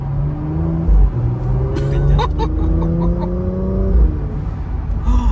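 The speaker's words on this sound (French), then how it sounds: "Ah, c'est le bruit de vent." Steady broadband rush of wind inside a moving Porsche, with a low engine drone and rising tonal whine underneath, some brief clicks and rattles midway.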